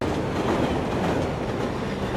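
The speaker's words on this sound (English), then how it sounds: "Here comes another train." A train crossing a bridge in London produces a steady, loud rumble and clatter of wheels on track that runs unbroken from start to finish, with no voices.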